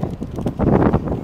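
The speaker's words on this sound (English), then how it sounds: "And it's just a little windy." Wind gusts buffet the microphone outdoors in a short burst of rough, low rumbling noise, swelling louder in the second half.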